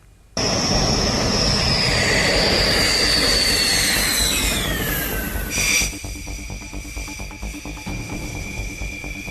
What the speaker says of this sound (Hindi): राफेल विमानों की पहली खेप को एस्कॉर्ट करते हुए सुखोई विमान उन्हें अंबाला एयरबेस पर लेकर पहुंचा।